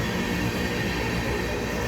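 An empty ethanol train of about 500 cars rolls slowly along a siding toward a signal, giving a steady, continuous low rumble of railcars with faint wheel noise on a hot, still day.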